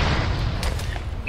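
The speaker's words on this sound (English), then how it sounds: "Mortars!" A deep, booming mortar blast in Arma 3 fills the moment, a loud sustained rumble with sharp cracks layered over it.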